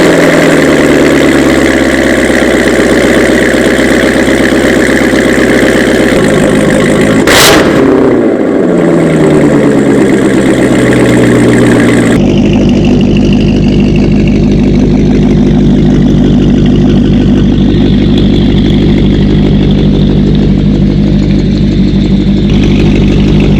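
Cold start of a 2019 Corvette ZR1 engine after a week of sitting: a loud roaring burst as it fires, then a deep, steady, rumbling high idle that settles lower and holds for a long stretch.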